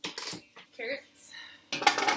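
About one and a half cups of dry lentils poured into a cooking pot for a Moroccan tofu and lentil dish, in short rattling bursts with pauses and a final louder, dense clatter of grains hitting the pot.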